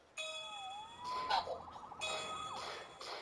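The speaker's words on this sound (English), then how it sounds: "Saved by the siren." A police siren in Spider-Man Remastered on PS5 wails in short, rising and falling electronic bursts, interrupted by brief gaps, fairly faint and heard on its own.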